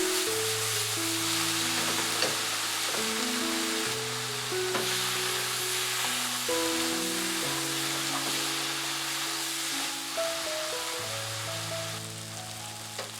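Tomato with salt and light soy sauce fries in a pan, a steady soft sizzle stirred now and then, running continuously beneath louder melodic background music.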